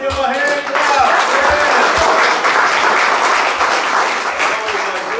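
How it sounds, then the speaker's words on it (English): A church congregation at a Christmas Eve service claps loudly and continuously in a sustained burst, with scattered voices and cheers mixed into the applause. "Let's give him a hand clap."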